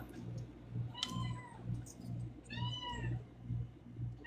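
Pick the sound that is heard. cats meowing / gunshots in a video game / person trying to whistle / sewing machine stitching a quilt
cats meowing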